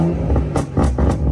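BMW fitted with a pop and bang tune crackles through its exhaust, a loud run of several sharp close pops and bangs over a rumbling engine.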